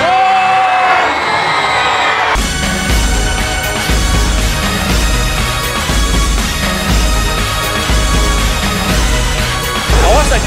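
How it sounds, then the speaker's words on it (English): A loud audience at a Medieval Times dinner show in Toronto whoops and cheers continuously over pounding music, voices yelling and screaming throughout. "You will be screaming your butt off during the show"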